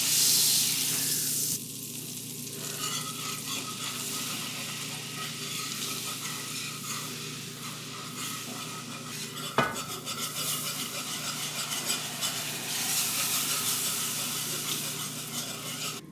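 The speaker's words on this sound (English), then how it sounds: "I will whisk in flour, sour cream, and this is half and half cream" A whisk works flour, sour cream and half-and-half cream into melted butter in a pan, making a continuous scraping, bubbling stir with one sharp metallic clink partway through and no talking.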